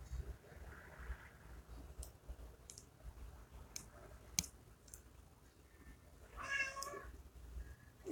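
A cat meows once, clearly and fairly close, near the end, after several seconds of faint clicks and light tapping in a quiet room with low background hum.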